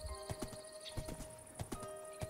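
A horse walks in the Minecraft video game, its hooves giving a steady series of crisp, close clip-clop steps over a constant electronic hum, with no talking.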